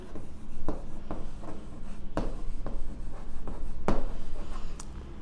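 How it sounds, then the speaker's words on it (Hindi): Handwriting on a board or paper as linear equations are written out in a Class 10 maths lesson, with scratchy pen strokes arriving in short bursts and a few sharper taps, close and fairly clear. "लिखेंगे लीनियर इक्वेशन"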